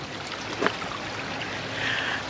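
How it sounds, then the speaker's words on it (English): A small stream trickles along a wooded riverway trail, a steady soft burbling wash of running water heard up close, with a brief splash or knock partway through. "check out this little trickling water"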